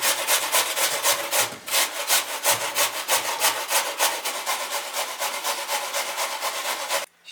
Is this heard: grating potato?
yes